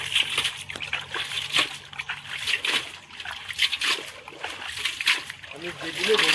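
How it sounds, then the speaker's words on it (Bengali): Water is poured into a small fish pond to clean it, splashing and trickling in uneven bursts while people talk nearby over the running water. "মামা জল দিচ্ছে এটা পরিষ্কার করার জন্য।"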